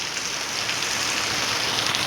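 Sudden heavy unseasonal rain pouring down in Bhachau, Kutch, a dense, steady hiss of downpour drumming on surfaces, loud and unbroken throughout, with no voices.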